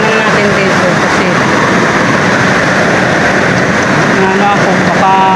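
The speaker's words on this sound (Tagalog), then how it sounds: "Malakas talaga ang ulan." Heavy rain pouring outdoors near a window, a loud, dense, continuous roar of water with a low engine-like rumble underneath throughout.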